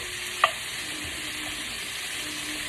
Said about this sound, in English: Go ahead and let it sear and let all that fat seep out of the bacon.